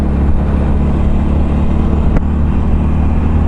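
A Harley-Davidson Sportster Classic cruiser motorcycle at a steady ride, its engine drone heard close and constant under heavy wind rush.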